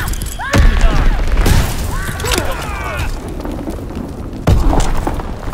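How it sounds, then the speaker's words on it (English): An Azon bomb drops in a video game and detonates in heavy booms, two sharp blasts with rumbling tails among whistling, swooping effects and background battle noise. "Dropping Azon bomb."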